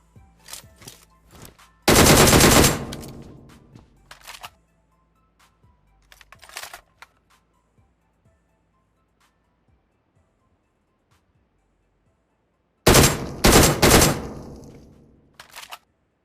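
Automatic rifle fire in PUBG Mobile comes in two loud sustained bursts, one early and one near the end, with scattered single shots and faint taps in between and long quiet gaps.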